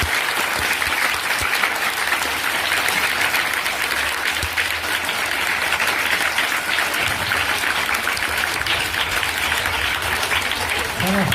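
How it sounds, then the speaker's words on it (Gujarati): Schoolchildren at a village primary school clap at length to welcome a visiting guest, a dense, loud and unbroken burst of applause from a large group. "તો એમને આપણે ખૂબ ખૂબ તાળીઓથી એમને આવકારીએ છીએ"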